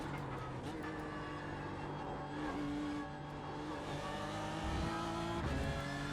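A BMW M4 GT3 race car with a turbocharged engine runs in iRacing, its engine droning and shifting pitch as it revs and lifts on track, fairly quiet and continuous with brief tire noise.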